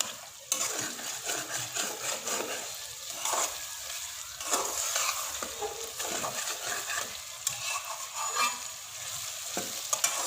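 An egg and potato curry sizzles in a pan while being stirred, with a continuous frying hiss and repeated scraping and knocking of a spoon against the pan, moderately quiet and close.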